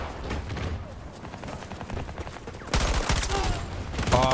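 Rapid gunfire from the video game Battlefield 2042, with dense, loud bursts of shots running throughout and a sharper, heavier volley near the end, with no speech.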